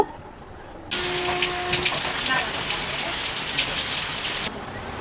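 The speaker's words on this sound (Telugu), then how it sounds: "ఇంకా చూసారా వర్షం కూడా పడిపోతుంది, ఇప్పుడు బాగా పడుతుంది." Heavy rain suddenly starts up and pours steadily, a dense, loud hiss that continues and then cuts off near the end.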